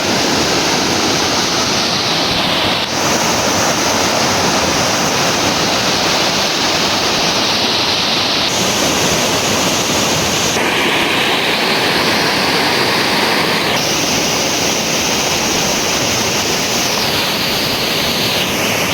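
A mountain river rushes beneath a bridge, giving a loud, steady broadband roar of flowing water that fills the whole stretch without pause.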